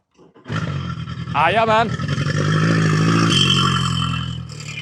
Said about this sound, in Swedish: Så snart jag hade fått fram bensin startade motorn direkt.